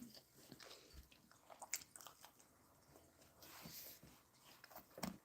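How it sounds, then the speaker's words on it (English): Quiet biting and chewing of a raisin cinnamon bagel spread with strawberry cream cheese, with soft, irregular close-up mouth sounds and faint crunches scattered throughout. "I'm just eating a bagel."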